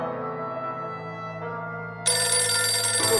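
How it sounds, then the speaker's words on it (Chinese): A mobile phone rings with a sustained tonal ringtone melody, steady and fairly loud, brightening into a fuller, harsher ringing partway through, with no voices. "我电话竟然响喎！"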